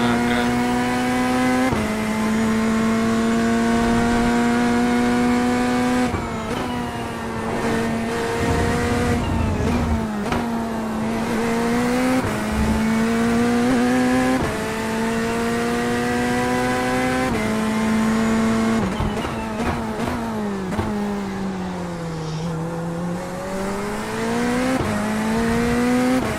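Corvette Z06 GT race car engine in a racing game at Suzuka International Racing Course during a 1000 km race, droning loud and steady throughout with rising and falling revs during gear changes.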